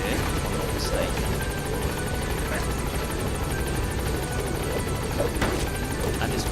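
A helicopter arriving at a landing zone in the video game Metal Gear Solid V: The Phantom Pain, its steady rotor drone holding near and constant throughout with faint background tones over it.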